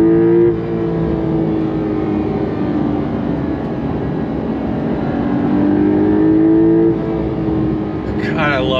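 Engine of a 2023 Porsche 911 Carrera T revving and accelerating, a loud continuous roar with pitch rising through the gears and a shift near the end, heard from close up and alone.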